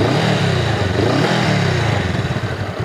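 A Honda CMX 500 Rebel 2020 twin-cylinder motorcycle engine fires up and settles into a loud, close, bubbling idle with a rhythmic mechanical clatter, with no talking over it.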